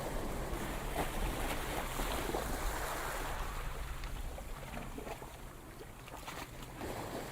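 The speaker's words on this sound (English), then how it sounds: "One could hardly hear the waves because of the noise the seagulls made" Steady ocean surf washes continuously with wind noise, a broad hissing roar that swells and eases slightly, without voices.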